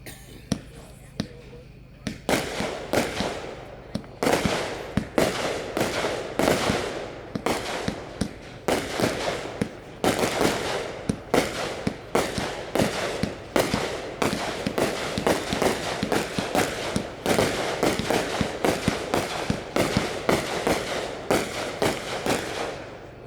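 A Hog Wild Neon Streak fireworks cake fires a rapid, steady string of 36 loud shots, the sharp bursts crackling one after another for over twenty seconds.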